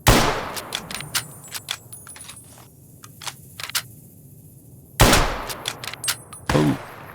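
Gunfire in the video game Fallout New Vegas: a run of sharp, loud shots in quick succession, then a pause, then another burst of close reports, with no talking over them.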